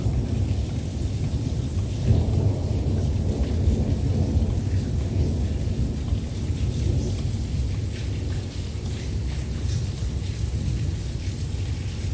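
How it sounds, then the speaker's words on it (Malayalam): Steady heavy rain falls in Ajman during 2024 flooding, while thunder rumbles low and continuously beneath the dense rain noise, with no voices. "മഴ പെയ്തുകൊണ്ടിരിക്കുകയാണ് ഇപ്പോൾ ഇടി എന്ന് വെച്ചാൽ നല്ല പരമ്പൻ ഇടിയാണ്"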